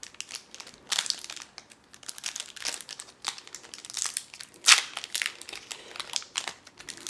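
Mystery Booster Convention Edition card pack being torn open by hand, close crinkling and crackling of foil wrapper in irregular bursts, with one sharper tear near the middle and no talking.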